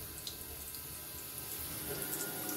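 Water flowing steadily from a propeller showerhead, a continuous close hiss of spray with no pauses.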